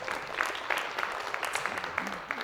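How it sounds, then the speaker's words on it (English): Audience at a child-protection event clapping in a steady, moderate round, with sharper individual claps scattered through and faint voices underneath. "Yeah, we can clap for that."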